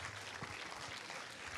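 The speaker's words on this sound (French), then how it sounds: "Des applaudissements" An audience applauds at the closing ceremony of a short-film festival, steady dense clapping filling a hall, moderately distant and even throughout the short stretch.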